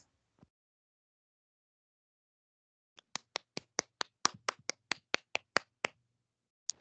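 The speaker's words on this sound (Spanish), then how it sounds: "un aplauso a sus compañeras." A small group of students claps for their classmates after a university immunology lab presentation: after a lone tap, about a dozen sharp, evenly spaced claps ring out near and fairly loud, then fade to a final single clap.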